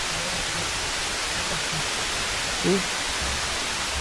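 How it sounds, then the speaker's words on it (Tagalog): A tall waterfall pours steadily, a broad even rush of falling water that holds a constant level from start to finish, with a brief faint voice partway through. "Ang taas talaga ng falls na to."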